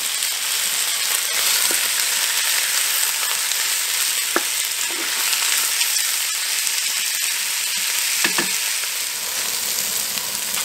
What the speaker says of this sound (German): Also alles drin hier und schön anbraten.